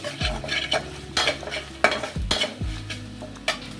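Chana bhuna, chickpeas cooked with beef, is stirred in a hot pan, a spoon scraping through the masala in repeated strokes over a steady sizzle and frying crackle, close and moderately loud, with no voices.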